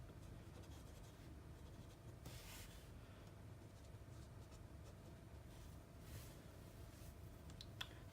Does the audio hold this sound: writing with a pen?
yes